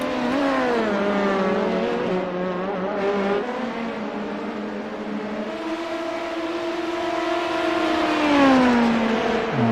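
A race car engine at speed on a circuit, loud and sustained, its pitch climbing and falling as it shifts and works through corners, with no voices over it.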